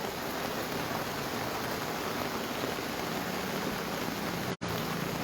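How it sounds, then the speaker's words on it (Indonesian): Heavy rain falls in Enrekang, a steady, dense hiss of downpour with no break in its texture, loud and unvarying apart from one brief dropout. "saat ini juga sedang berlangsung hujan"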